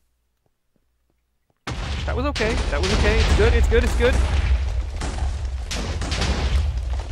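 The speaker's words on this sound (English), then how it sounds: "3, 2, 1, fireworks!" Fireworks in a Minecraft game go off in a dense burst of booming, crackling blasts. Someone talks excitedly over the rapid, loud barrage, which continues without letup.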